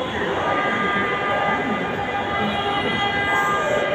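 A Dhaka metro train pulls into a crowded station, its steady rumble and hum running throughout with a faint whine on top and people talking over it.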